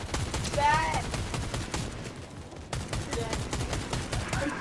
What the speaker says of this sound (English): I sniped him. I hit him one.